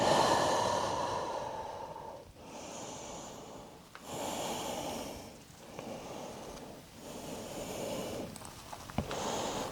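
Slow, audible breaths in and out during a yoga forward fold, close and soft, with a few long exhalations spaced a couple of seconds apart over a quiet background.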